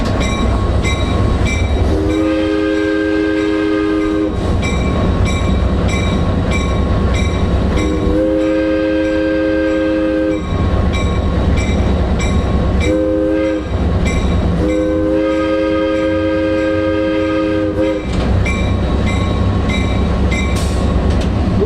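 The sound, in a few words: train whistle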